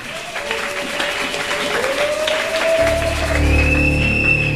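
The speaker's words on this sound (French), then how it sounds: "Sous vos acclamations." Applause from a congregation at a Sunday church service, a steady patter of clapping that swells slightly before sustained low musical tones and a higher held note enter partway through and continue beneath it.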